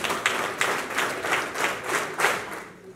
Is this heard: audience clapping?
yes